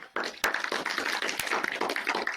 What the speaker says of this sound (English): It's my first time receiving applause for being promoted.